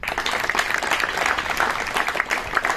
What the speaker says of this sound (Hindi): इसके लिए एक बार ताली बजा लो